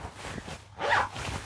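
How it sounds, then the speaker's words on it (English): A single quick zip on a hiking jacket, one short rasping pull close by and fairly soft, with faint rustling of fabric around it. "Here, again, a zipper."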